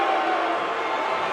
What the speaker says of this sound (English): The crowd doesn't like it.